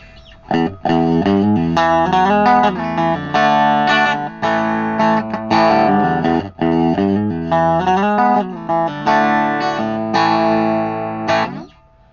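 Electric guitar on the bridge pickup through a Fender Frontman 15G amp with a Celestion Eight 15 speaker plays a steady run of notes and chords, bright and moderately driven, noodling continuously for several seconds.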